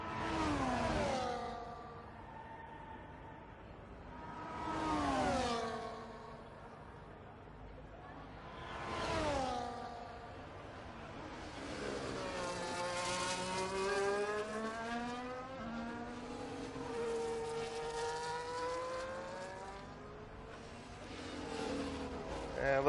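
F1 cars lap the Brazilian Grand Prix in the F1 24 racing game, with several engines wailing past in rising and falling sweeps. A longer sustained engine pitch holds near the end, and no voice is heard.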